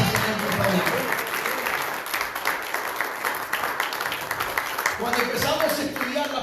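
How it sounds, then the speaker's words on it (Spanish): A church congregation claps and applauds together, a dense continuous wash of hand claps that holds steady throughout, with voices mixed in. "Dele palmas al Señor, por favor"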